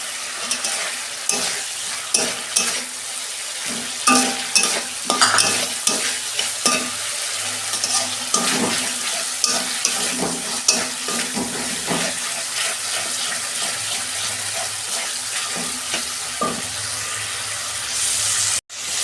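Tomatoes frying and sizzling in a pan for a vegetarian cabbage curry, with steady close sizzle, repeated stirring scrapes and clinks, and a brief rush of tap water near the end.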